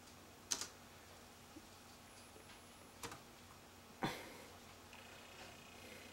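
A few isolated keystrokes tap on a computer keyboard, sparse and quiet, with long pauses between clicks in an otherwise hushed room.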